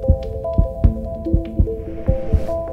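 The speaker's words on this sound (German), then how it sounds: "Das Herz schlägt." The heart of a brain-dead patient kept breathing by a ventilator beats in soft, regular paired thumps, repeating steadily over a constant low hum and faint tones.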